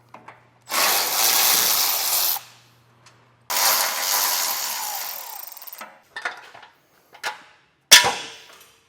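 A power tool removes the bumper support bolts on a 2021 Jeep Cherokee. Two long, loud whirring runs come first, followed by several short, sharp bursts, with no talking.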